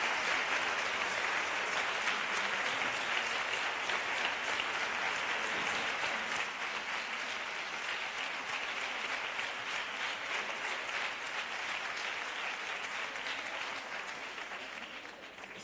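Sustained applause from a seated audience at a talk on gender violence, a thick, even roar of many hands clapping that holds steady throughout and thins slightly at the close.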